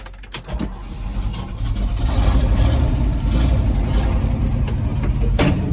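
An old gas-engine tandem truck cranks briefly, catches and settles into a steady, loud, close rumbling run with no talking.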